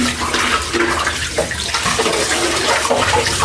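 Tap water runs and splashes continuously over a whole chicken as it is washed inside and out, a close, steady gushing with no talk.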